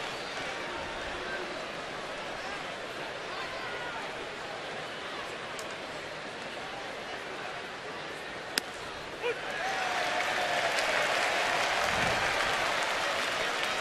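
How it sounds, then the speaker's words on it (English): A baseball stadium crowd claps lightly in a scattered courtesy applause, a steady wash of distant hands that swells slightly in the last few seconds. "Even leading by 9, you can get some derisive applause if you don't throw strikes. Yeah, a little courtesy clap."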